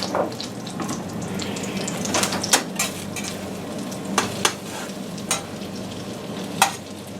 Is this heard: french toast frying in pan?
yes